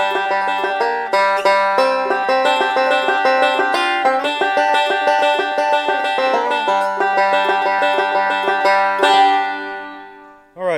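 A banjo picks Man of Constant Sorrow in a bluegrass style built on forward rolls, a steady stream of bright, close, loud plucked notes that rings out alone and then stops abruptly at the end.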